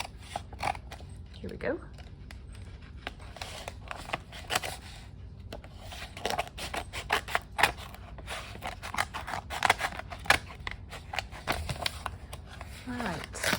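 Scissors cut across a mail package at close range, with repeated crisp snips and the crinkle of packaging, while someone talks briefly over the cutting.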